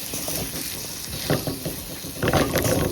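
Ivy gourd (kovakkai) fry sizzles steadily in a pan over a medium flame, with a few louder scraping bursts as it is stirred and mixed.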